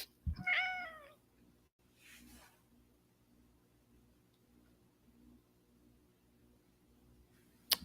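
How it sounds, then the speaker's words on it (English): A pet cat gives one clear, close meow with a wavering pitch near the start. Faint room hum and light ticking follow, and a brief sharp click comes at the end. "I got my cat here."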